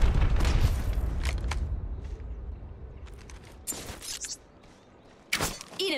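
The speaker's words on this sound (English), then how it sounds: "Box 3, launching missiles." Missile barrage from Valkyrie in Apex Legends, a heavy burst of booming blasts at the start fading into scattered explosions and sharp cracks of gunfire, with later loud bursts near the end.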